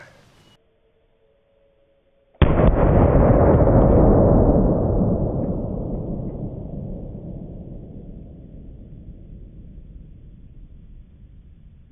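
A single booming gunshot from a Toklat 454 Casull revolver fired outdoors into a gel block: sudden loud blast followed by a long, rolling echo that slowly fades.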